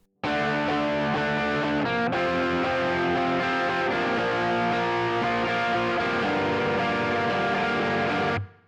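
Electric guitar with light distortion plays a chord progression, a steady, full strummed texture running continuously with a brief break near the start, no voice.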